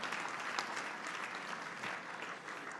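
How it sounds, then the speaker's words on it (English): A crowd claps steadily, a dense wash of applause that holds at an even level from start to finish. "We should give an extra special round of applause to Kathy for"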